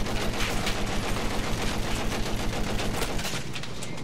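Rapid gunfire from the video game Battlefield 1 on the Monte Grappa map, a dense, continuous rattle of shots and explosions filling the mix loudly throughout without a break.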